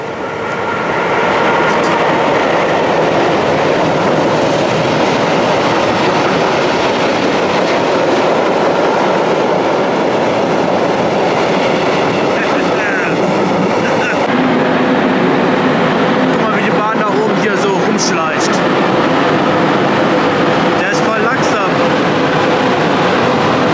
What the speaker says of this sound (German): Da müssen noch viel mehr Züge kommen.